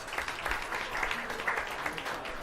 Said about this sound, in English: How about one big round of applause, another round of applause?